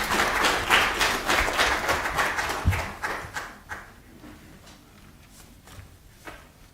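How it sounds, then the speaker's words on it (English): An audience at a university language policy launch claps for a speaker being welcomed, loud dense applause that fades after a few seconds into scattered claps and footsteps as the person takes the stage. "Let's give Dr. Makgatu Kuno a big round of applause"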